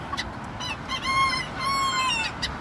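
Bantam chickens call close by, a hen giving short clucks followed by a couple of drawn-out, strained squawking calls, with no talk over them.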